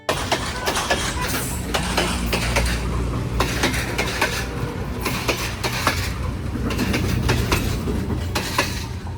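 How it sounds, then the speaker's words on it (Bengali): A train passes close by on a scenic coastal railway near Colombo, Sri Lanka, its wheels clattering in a steady, loud clickety-clack rhythm with metallic rattles over a deep rumble for the whole stretch. "আর কিছুক্ষণ পর পর এখান দিয়ে ট্রেন যায়"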